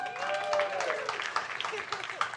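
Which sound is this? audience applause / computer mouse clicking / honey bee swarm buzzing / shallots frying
audience applause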